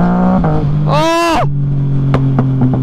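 A Lotus Evora engine idling with a strong steady hum, then revved sharply once with a rising and falling roar before dropping back to idle, heard close up.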